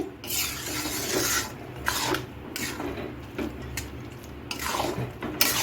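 Chira khichuri with ghee being stirred in a pot, repeated scraping and rasping strokes of a spoon against metal, moderately close, over a soft continuous background.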